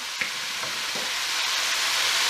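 Minced meat with red chili flakes, cumin seeds and dried coriander sizzles steadily in a hot pan while being stirred, a dense continuous frying hiss with a few soft scrapes near the start and no voices.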